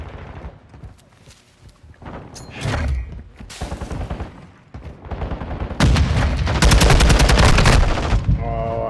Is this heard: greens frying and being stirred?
no